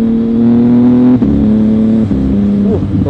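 Modified naked superbike accelerating hard with a quick shifter, a loud close engine note climbing in pitch with two sharp upshifts cutting in mid-pull before revving on.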